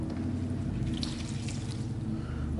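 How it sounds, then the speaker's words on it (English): Water drips and trickles off a sheet of wet watercolour paper as it is lifted from a tray, a soft, steady patter of close droplets with no talk. "we'll take the paper out of the water"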